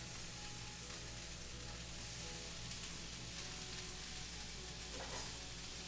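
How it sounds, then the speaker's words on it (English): Peppers and onions sauteing in hot olive oil, a steady close sizzle and crackle that holds even throughout with no voices. "We're gonna saute these peppers and onions."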